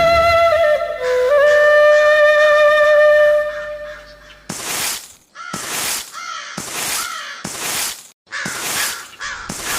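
Harsh crow caws from a cartoon repeat in a rapid series of about six loud calls, following a few seconds of sustained tonal music.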